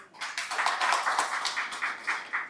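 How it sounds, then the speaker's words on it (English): Audience applause at an African regional conference of The Duke of Edinburgh's International Award Foundation, a steady patter of many hands clapping with soft rhythmic peaks, moderately loud and continuous for a few seconds. "also need another round of applause"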